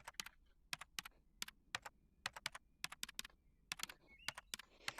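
Typing a room name on a computer keyboard in a Rec Room tutorial: irregular bursts of crisp key clicks at close range, some quick runs of keystrokes and short pauses, with no talking.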